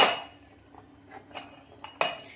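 A metal spoon stirs sugar into milk poha in a pot, giving a few sharp, scattered clinks against the rim over an otherwise quiet background.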